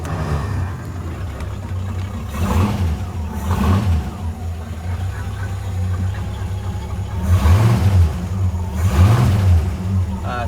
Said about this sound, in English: It's a 283 V8 original engine, 185 horsepower. And let's start her up.